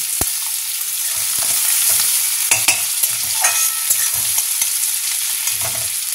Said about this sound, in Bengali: ঠিক আছে, একটু ভাজুক, একটু অল্প অল্প ভাজা হবে।